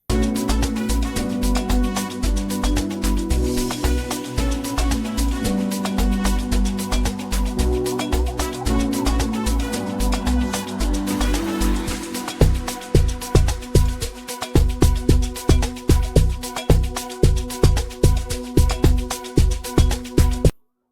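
Loud Amapiano beat: punchy, steady kick drums under dense percussion and synth layers, with the low end growing sparser and more clipped in the second half before stopping abruptly.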